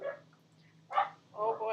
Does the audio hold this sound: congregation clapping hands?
no